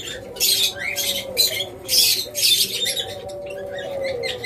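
A pair of lovebirds squawking in bursts, four or five harsh, loud, close squawks spaced about half a second apart with brief quiet gaps, no voices.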